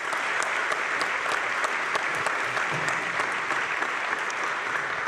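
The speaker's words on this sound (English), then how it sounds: "Let's have a nice round of applause for them." An audience at a 1940s-style Christmas radio hour show applauds warmly, steady close clapping sustained without a break throughout.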